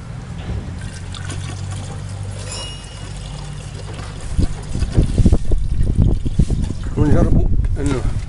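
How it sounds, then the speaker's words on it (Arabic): Water poured into a car's windshield washer fluid reservoir during a washer pump repair, a steady trickle and splash that gives way to louder talk in the second half. "نصب شوية ماء"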